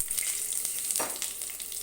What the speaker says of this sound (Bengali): এবার কড়াইয়ের তেলের মধ্যে ওই তেলেই দিয়ে দিচ্ছি একটু গোটা জিরে, কয়েকটা গোটা শুকনো লঙ্কা আর কয়েকটা তেজপাতা।